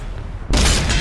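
A tank's main gun fires a single loud, booming shot in the World of Tanks game, aimed at enemy artillery; a quieter low rumble comes first, then the blast bursts in halfway through and holds full and heavy to the end.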